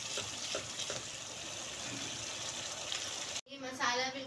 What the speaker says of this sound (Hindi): अभी हम इसको और पकाएंगे ताकि प्याज और टमाटर सही तरीके से एक साथ मैश हो जाए